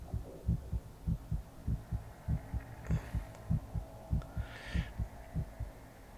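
A heartbeat-like throbbing sound effect pulses in a steady double-beat rhythm, deep and close, over a low hum, with no talking.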